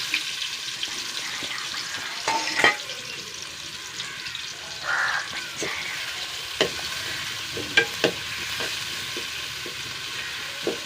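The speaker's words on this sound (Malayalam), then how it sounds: "വറുക്കട്ടെ ഉള്ളിൽ ഉപ്പിട്ട് കൊടുക്കട്ടെ ഉള്ളിൽ സവാളക്ക്" Sliced onions fry with salt in a pan. A steady sizzle runs throughout, broken by scattered stirring clicks and scrapes, with no talking.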